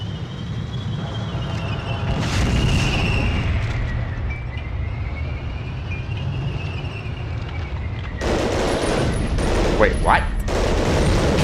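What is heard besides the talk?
rocket explosions and gunfire from Medal of Honor Underground video game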